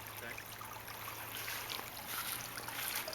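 A small backyard garden waterfall shaped like a three-leaf clover with a frog figure trickles and splashes in a steady, gentle wash, heard fairly close and continuous with no talking.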